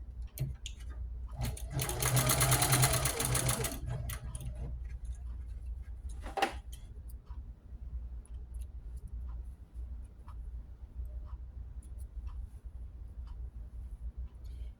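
A sewing machine stitching a quilt: a loud, fast, even run of stitching in the opening seconds, then a low steady motor hum with scattered soft ticks and one sharp click, without speech.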